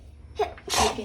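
A child sneezes once, loud and close, in a home kitchen during baking, with a short sharp intake of breath just before the burst.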